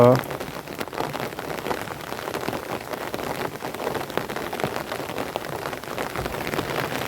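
Rain falls steadily during a downpour, an even close hiss of drops on surfaces with brief louder spatters near the start and no clear talk.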